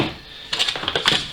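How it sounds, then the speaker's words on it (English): Crinkly plastic packaging rustles and crackles close up during the unboxing of a cheap soldering iron, a quiet hiss first, then a burst of small crisp crackles. "Apologies for the noise, bit of plastic."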